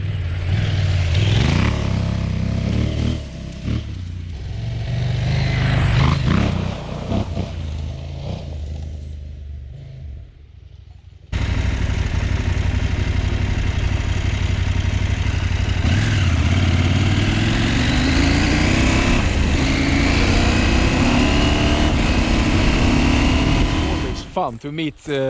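A motorcycle engine revs and drones while riding forest trails, loud and close, rising and falling with throttle, with a brief drop around ten seconds and then steady riding noise, and a voice talking over parts of it.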